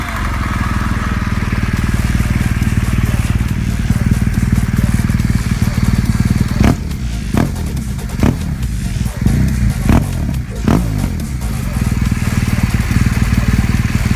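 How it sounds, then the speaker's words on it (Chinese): A BMW R1200GS motorcycle engine runs steadily and close, a continuous low throb with several sharper bursts partway through; a faint voice may sit beneath it. "谢谢大家听一下发动机声浪。"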